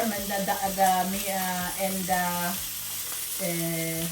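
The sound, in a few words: food frying in a pan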